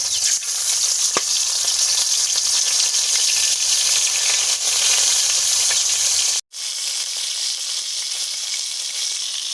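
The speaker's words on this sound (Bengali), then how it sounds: "একটা মাছের মাথা আমি ভালোভাবে ভেজে নেব।" A fish head, likely hilsa, fries in mustard oil in a kadai, a loud, dense, continuous sizzle with a brief dropout partway through before the crackling hiss resumes.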